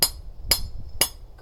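A mallet strikes wood during home construction work, three sharp, ringing blows spaced evenly about half a second apart, close and distinct over faint background noise.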